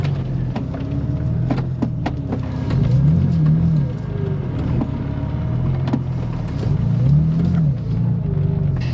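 A Porsche 911 with fuel system trouble idles and putters slowly around a yard, its steady engine drone rising and falling gently with light throttle, close and continuous throughout.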